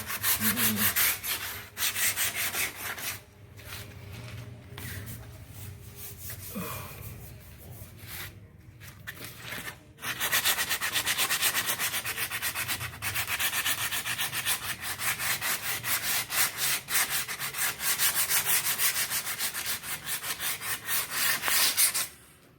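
Steady rhythmic hand sanding of body filler on a vintage Vespa scooter, continuous scraping strokes with a short pause midway, close and fairly loud.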